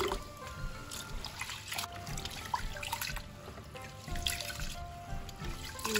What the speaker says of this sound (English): You have to rinse and clean. Just like how you do with the normal rice.